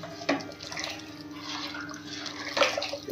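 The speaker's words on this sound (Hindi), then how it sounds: "चलिए एक बार और उबाली आने देंगे इसमें" Kadhi coming to a boil in a kadai, with a steady soft bubbling and simmering and occasional sharper pops and drips, close by and alone.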